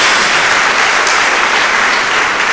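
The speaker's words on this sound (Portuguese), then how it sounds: "Dê uma salva de palmas ao Senhor." A church congregation gives loud, sustained applause, a thick wash of clapping that stays even throughout.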